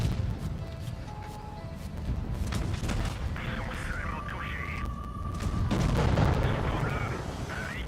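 Tank cannon shots in World of Tanks Blitz, heavy booming reports with echo set in a busy game mix, heard under steady commentary throughout.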